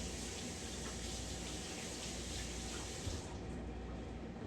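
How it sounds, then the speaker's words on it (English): A glove being washed under running tap water while home canning sweet cherries, with a steady hiss of water streaming into a sink, close and continuous until it thins out near the end. "Let me go wash my glove, y'all."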